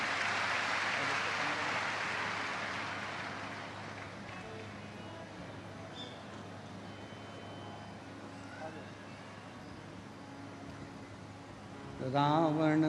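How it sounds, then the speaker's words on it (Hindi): A crowd claps loudly at a live Shiv Mahapuran katha gathering in Sehore, a dense burst that fades over several seconds into quieter hall ambience, with a voice rising near the end. "जोरदार तालियां।"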